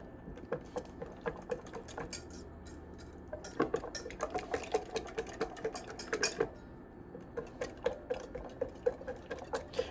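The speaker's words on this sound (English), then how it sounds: "we're going to use our whisk, and we're going to whisk it all together so it's nice and smooth" A whisk beats a sauce mixture in a bowl, giving quick, rhythmic clinking and scraping taps that go on steadily, close by and moderately loud.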